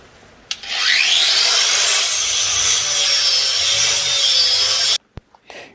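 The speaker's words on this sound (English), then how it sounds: "Just going to smooth it off with a sander" A power sander grinds steadily for about four seconds against a metal custom motorcycle fender strut, a loud close rasping whine that starts and stops abruptly, followed by a few small knocks.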